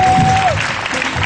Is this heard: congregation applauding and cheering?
yes